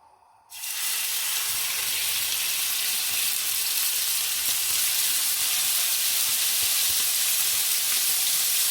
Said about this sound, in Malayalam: അപ്പോൾ അതിൻ്റെ അകത്തേക്ക് നമ്മുടെ സ്റ്റീക്ക് പീസ് അങ്ങ് ഇട്ട് കൊടുക്കാം.